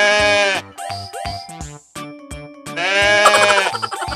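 Toy sheep giving a string of loud, close, electronic-sounding bleats in quick succession, with brief pauses between calls.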